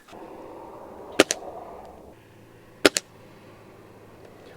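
Two sharp pellet gun shots from a Ruger Impact Max .22 or Gamo Swarm Magnum, each a loud crack followed quickly by a second snap, the pair separated by about a second and a half over quiet background.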